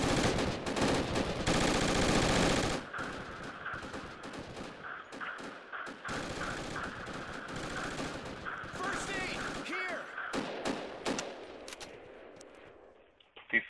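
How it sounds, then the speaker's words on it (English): Gunfire in the military shooter game Project Reality, with a dense burst of rapid shots up front followed by scattered single and multiple shots at varying distances, with voices talking over the combat. "Keep firing, guys. One shot every 2 seconds."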